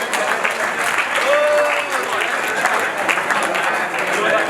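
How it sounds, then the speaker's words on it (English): Guests at a wedding dinner banquet clap in sustained, dense applause that holds steady, with voices murmuring faintly beneath it. "Let's give them another round of applause."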